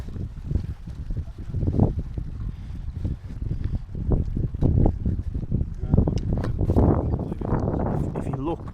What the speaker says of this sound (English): Just trying to find a spot out the wind.